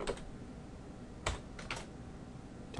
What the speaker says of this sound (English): type in the name of the server